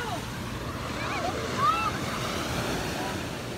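Ocean waves wash onto the shore in a continuous surf roar mixed with wind buffeting the microphone, with faint distant voices and cries over the water.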